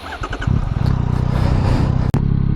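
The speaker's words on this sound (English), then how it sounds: "So let's do our first acceleration, see how much it wheelies" A 2024 Yamaha MT-09 SP motorcycle accelerating hard from a stop in power mode 1, a loud close engine roar climbing through revs with a brief gap near the end, no voices.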